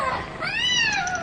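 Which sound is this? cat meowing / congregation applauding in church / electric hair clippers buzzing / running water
cat meowing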